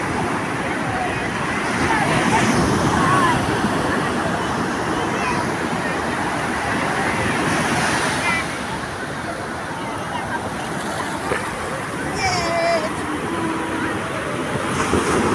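Sea waves on Puri beach wash in over bare feet and draw back, a steady loud rushing surf with wind buffeting the microphone throughout.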